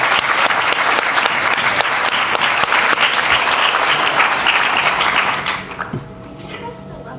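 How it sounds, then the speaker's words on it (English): Audience at a school senior symposium night applauds loudly and steadily for about five and a half seconds, then the clapping thins out and fades to a quiet room. "Everybody give a round of applause for Rick for helping me out"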